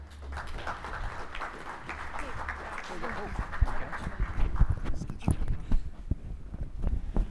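Audience applause at an aviation pilot training and safety panel welcoming the moderator, a dense clatter of claps that swells then thins, with a voice speaking over the tail end.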